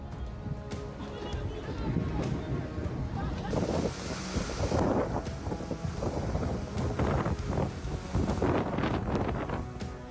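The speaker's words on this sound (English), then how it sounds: "It screams with gusts of wind and pouring rain." Cyclone Bilal batters Reunion Island with roaring wind gusts and heavy pouring rain, a loud broadband rush that surges and thumps against the microphone, while a voice speaks over the storm.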